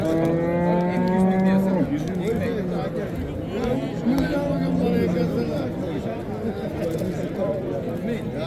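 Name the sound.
cow mooing at livestock market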